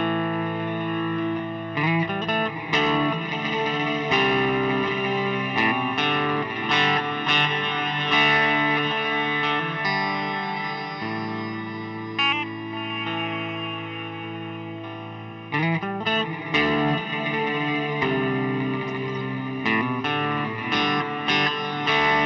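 An electric guitar plays a slow passage through an EarthQuaker Devices Afterneath reverb pedal into a Fender Blues Junior amp set just before breakup, with sustained, washy, echoing notes and shimmering trails blending into a continuous swell; no talking.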